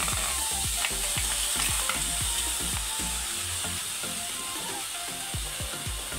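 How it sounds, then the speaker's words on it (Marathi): Strawberries sizzling in a hot kadhai for jam, a constant frying hiss with repeated scraping knocks from stirring, close and steady. "आता मी यामध्ये ना स्ट्रॉबेरीज ॲड करते"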